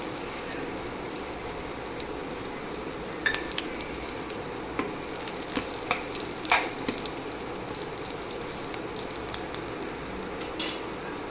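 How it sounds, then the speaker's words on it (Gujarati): Cumin seeds, garlic and ginger fry in hot oil with a constant crackling sizzle, broken by scattered sharp pops and light metal clinks of a utensil against the pan. "ત્યાર પછી તે ગરમ તેલમાં આપણે જીરું એડ કરી દઈશું."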